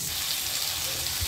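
Potatoes sizzle as they fry in hot oil in a wok, a steady loud hiss and crackle that holds close and continuous throughout.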